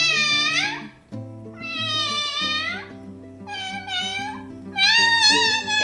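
A voice imitates a cat's meow in a village setting, repeating drawn-out meowing calls four times in close succession, loud and near.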